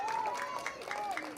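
Home crowd at an NPSL North Atlantic Conference soccer match, American Soccer Club NY against New Haven United FC, cheering and applauding after a keeper's save from a corner, a steady roar under overlapping voices and whistles.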